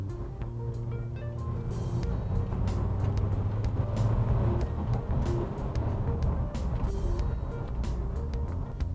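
A 2021 Isuzu D-Max pickup with a 1.9L engine accelerating uphill to overtake, a steady low engine drone heard from inside the cab, rising slightly with faint ticks and road noise and no talking.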